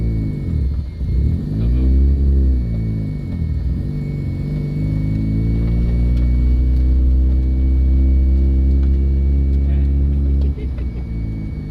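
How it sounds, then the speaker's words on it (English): A Mazda FC engine that sat for 15 years is running and revving, a loud, close rumbling idle that rises and falls through several throttle blips before settling into a steady drone, with people talking. "If you step on the gas, I'm flying into the fuel tank."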